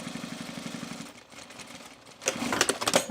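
A sewing machine runs in two bursts of steady whirring while stitching around a corner on a bomber jacket, with a brief slower, quieter stretch between them.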